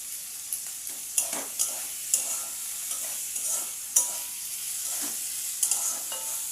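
Potato, onion and chili frying in oil in a kadai with salt added, a soft continuous sizzle punctuated by regular sharp scrapes and clinks of stirring.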